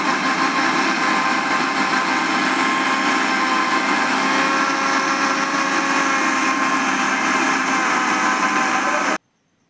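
A kitchen blender whirs loudly and steadily, grinding amla with coriander leaves and a little water into a thin paste, running continuously before cutting off abruptly at the end.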